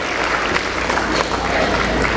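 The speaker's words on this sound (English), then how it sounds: "So a round of applause to all the patrons who have made it possible" Graduates and guests at a dental sciences graduation ceremony clap in a loud, dense, unbroken burst of applause for the patrons, with no voices on top.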